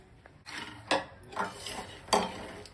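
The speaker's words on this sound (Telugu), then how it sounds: "ఇది మాడిపోకుండా ఇలా జాగ్రత్తగా వేయించుకుంటూ ఉండాలి" Lotus seeds (makhana) are dry-roasted in a pan and stirred with a utensil. Several distinct scraping and rattling strokes come at irregular intervals, close and fairly quiet, with no talking.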